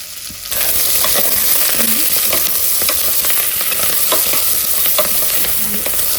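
Onions frying in a pan until golden brown for molake hurlikalu sambar, a loud, close, constant sizzle with repeated clinks and scrapes of a spoon stirring, no talking.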